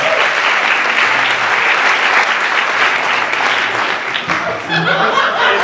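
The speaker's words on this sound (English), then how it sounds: "If you want to give a round of applause to Anthony." Loud, dense applause from a conference audience at a dental event, a continuous clapping with scattered chuckles and a brief voice near the end.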